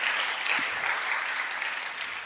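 An audience applauds steadily for a woman who has just spoken at a Christian gathering, a dense sustained clapping that holds its level throughout.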